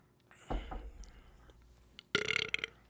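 A person burps twice, a short low belch followed a second and a half later by a louder, rougher one, close to the microphone with faint voices around.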